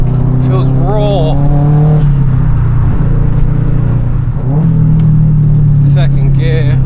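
A 500 bhp Subaru estate accelerating hard, with a loud droning engine note rising in pitch inside the cabin, a brief dip at a gear change, then pulling up again, with speech over it.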